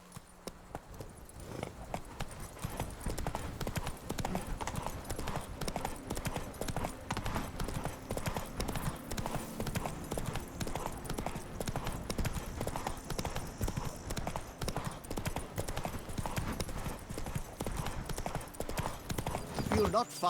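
Steady, continuous hoofbeats of a horse galloping in The Witcher 3, a dense rhythmic clatter running the whole length with game ambience beneath and a short voice near the end.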